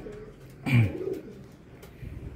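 A racing pigeon arriving at its loft gives one soft, low coo close by, a brief throaty warble against a quiet background with faint rustling.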